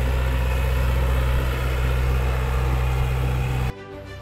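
A John Deere 2250 four-cylinder tractor, fitted with dual wheels and working a steep slope, runs with a steady low engine drone and hum, close and loud, then drops abruptly near the end.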